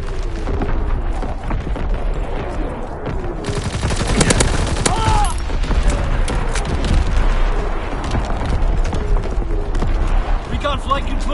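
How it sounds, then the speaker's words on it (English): A division artillery barrage in a war video game erupts as a dense fusillade of booming shots and rattling gunfire, loud and sustained, with a radio voice speaking over the battle. "Firing division artillery."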